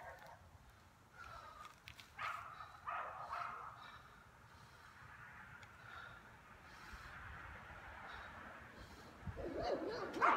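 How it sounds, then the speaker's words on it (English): Several dogs bark at a distance from a neighboring yard, intermittent yips and barks over steady room noise, growing louder near the end. "Excuse my neighbor's dogs."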